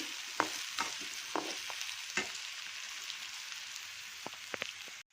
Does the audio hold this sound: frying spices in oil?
yes